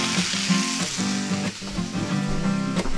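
Onions frying in a pan at a catch-and-cook meal outdoors, with a steady close sizzle over a low harmonic hum and a few faint clicks, no talking.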